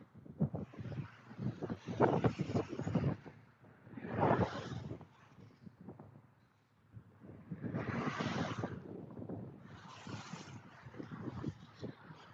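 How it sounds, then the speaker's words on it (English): Gusts of wind buffet the microphone in loud, rumbling bursts that swell and fade, with no voices. "it's windy here"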